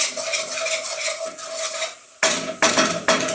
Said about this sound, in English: get it off the side and keep stirring like mad